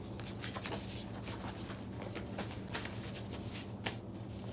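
Tarot cards being shuffled by hand, a soft, rapid papery riffling and patter that runs steadily and fairly faintly through the whole stretch, with no talking.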